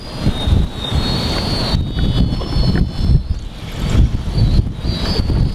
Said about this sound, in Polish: żyłka gra na wietrze.